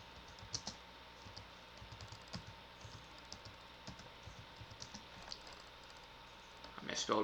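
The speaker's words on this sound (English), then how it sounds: "As you can see, we are typing." Typing on a computer keyboard on a Linux Mint 19.2 system, a quiet steady run of soft key clicks at close range over faint background hiss.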